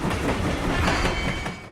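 A cartoon tank engine train runs steadily along the rails, a continuous loud rumble with rhythmic clickety-clack that cuts off abruptly at the end.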